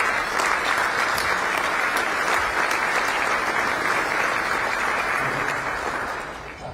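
Dense, steady applause from an audience at a county State of the County address in Bexar County, a full room of clapping that holds strong for several seconds before tapering slightly at the end.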